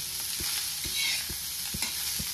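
Sliced onion fries in a little oil on a tawa, turning golden for onion paratha. A continuous close sizzle runs under a regular beat of stirring strokes, about two per second.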